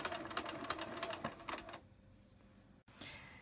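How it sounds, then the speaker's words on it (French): A sewing machine topstitches around the edge of a garment in quick rattling bursts of stitching, then pauses to near quiet before a soft rustle of fabric. "je continue comme ceci à tourner tout autour de mon vêtement pour lui faire une belle surpiqûre"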